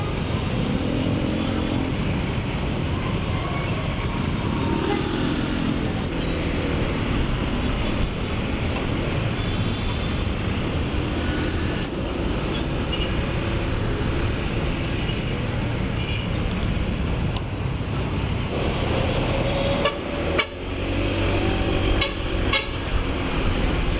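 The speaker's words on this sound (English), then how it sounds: "Traffic is very scary around here." Busy road traffic near Valenzuela in the Philippines, with a steady loud rumble of cars, buses and motorcycles close by and several car horns honking, the sharpest near the end.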